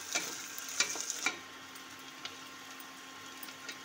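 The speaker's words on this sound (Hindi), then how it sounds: "प्याज को तल रहे हैं थोड़ी देर" Onions and garlic fry in a pan for Indian mutton liver masala, a faint steady sizzle broken by a few crisp scraping stirs early on, then softer frying alone.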